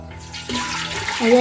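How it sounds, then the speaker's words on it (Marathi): Water splashes and runs into a metal vessel, a steady pouring with some background chatter and clatter, as water is added to a pot for steaming colocasia leaf rolls. "आता मी पाणी थोडासा घालून घेते"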